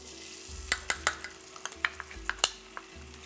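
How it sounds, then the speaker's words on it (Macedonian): Onion frying in oil in a pan at home, a steady sizzle under sharp scraping and stirring clicks of a utensil against the pan, recurring irregularly and close by. "нека си се пржи сега кромидот"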